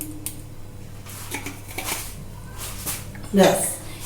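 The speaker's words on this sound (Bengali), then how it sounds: "এই মশলাগুলোকে আমি মিশিয়ে নেবো" Spices, including asafoetida, being stirred together in a pan while making moong dal paratha, heard as light metallic scraping and clinks under steady talking, ending in a louder clatter.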